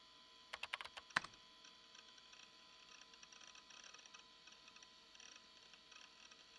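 Keyboard typing in the visual novel Chaos;Head Noah: a brief burst of quick clicking keystrokes early on, then a quiet stretch of faint room tone with no speech.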